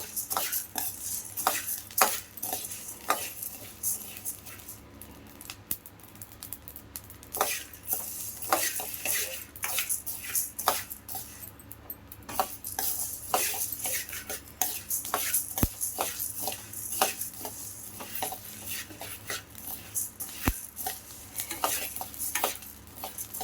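Spices dry-roasting in a pan for sambar powder, with steady stirring scrapes of a metal spoon and a light sizzle, close and continuous, with no talk.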